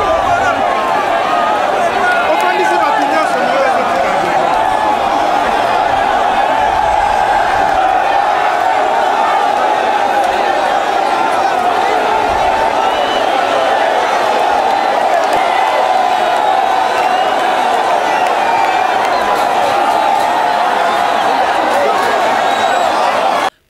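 A dense crowd in an outdoor street gathering for a head of state chants, shouts and cheers without pause, a loud, continuous roar of many voices.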